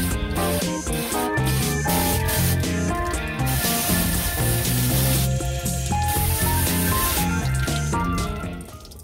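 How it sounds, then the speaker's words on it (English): A pressure sprayer hisses while washing the underbody of an ex-ambulance Mercedes Sprinter van in a steady, close blast under prominent background music. "Spray it all back down again."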